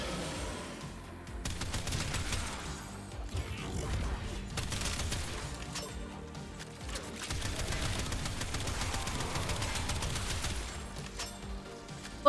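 Gunfire from the Warframe video game rattles away in rapid, dense bursts. Two sustained volleys are separated by a short pause, all at moderate level with music-like game sound beneath.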